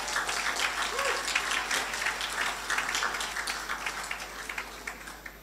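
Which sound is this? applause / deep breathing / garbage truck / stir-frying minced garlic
applause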